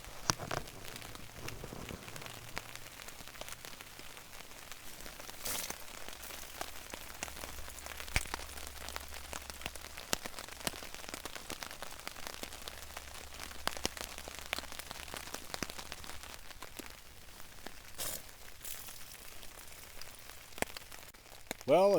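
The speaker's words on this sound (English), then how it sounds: "Hang out under the tarp, listening to the raindrops." Rain patters steadily on a tarp over a bush camp lean-to, soft and close, with a constant scatter of light taps and occasional louder drops.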